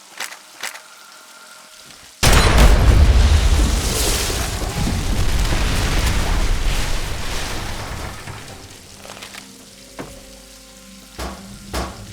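An explosion in Fallout 3 bursts in suddenly as a loud, broad blast with deep rumble. It roars for several seconds and slowly decays into sparse debris clatter and quieter game ambience.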